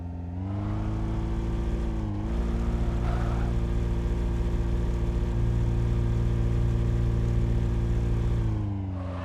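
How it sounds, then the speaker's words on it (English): Modded Halo 3 vehicle engine hums steadily with a strong low tone, dipping briefly then rising into a sustained rev before cutting off. "I feel like I'm pretty happy with these engine sounds"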